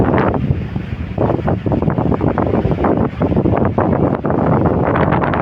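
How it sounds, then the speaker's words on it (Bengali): A boat crossing a big river in rough, heavy waves, with strong wind buffeting steadily and loudly throughout, the roar of wind and water blending into a continuous rumble with no speech. "বড় নদীতে পড়েছে তো আর প্রচণ্ড ঢেউ হচ্ছে জোরে"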